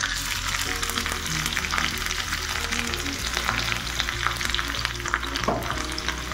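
Green chilies crackle and spit in hot oil with mustard seeds as a tempering for dhokla, a close, dense sizzle with busy popping that carries on evenly from start to finish.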